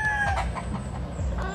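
A High Action Hatch gamefowl rooster lets out a quick run of clucks and short calls close by on a farm, loud against a low background rumble.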